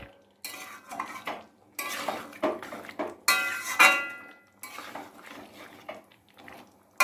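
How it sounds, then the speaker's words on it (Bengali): Metal utensil stirring and scraping food in a pot, a string of clattering clinks and scrapes in irregular bursts, close and moderately loud, ending with a sharp knock that could be a lid being set on. "দিয়ে এবার আরেকটু নাড়াচাড়া করে আমি আরেকটু ঢেকে রাখবো"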